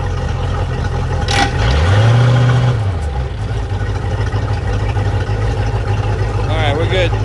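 Mercruiser Alpha 1 sterndrive engine running at steady idle, rising briefly in pitch as the propeller is spun in gear, then settling, with people talking nearby.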